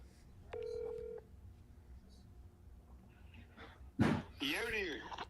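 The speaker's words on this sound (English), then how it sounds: "let's make a call" Touch-tone keypad tones are pressed in a short steady beep near the start, then a brief clatter and a burst of voice-like audio from the phone line a few seconds later, over a quiet room.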